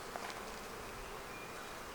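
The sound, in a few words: honey bees buzzing around open Flowhive frames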